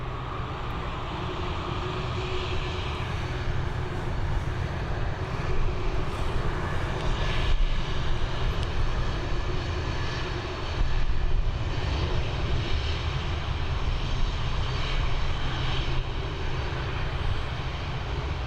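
An Airbus A330-200 airliner taxis at Dublin Airport, a steady, loud jet engine roar and whine that holds evenly throughout with only slight swells, no other sounds over it.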